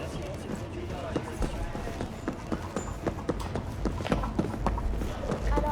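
Horse hooves clip-clop in Cyberpunk 2077, a steady run of close, regular hoof strikes across the whole stretch over a dense game-sound backdrop.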